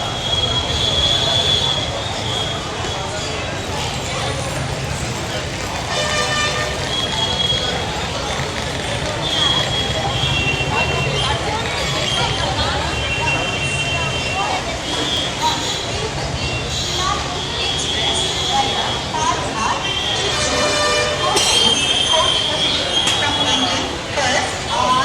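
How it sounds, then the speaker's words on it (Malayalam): Coimbatore Junction railway station at night, with trains rumbling and wheels squealing amid a busy platform hubbub. People talk throughout, and high metallic screeches and clanks rise and fall over the steady din. "കോയമ്പത്തൂർ ജംഗ്ഷൻ റെയിൽവേ സ്റ്റേഷനാണ് കേട്ടോ."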